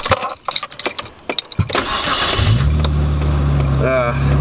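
A Nissan Skyline engine cranks briefly and catches, settling into a loud steady idle with a faint whine from a loose belt, after some clicks and handling noises.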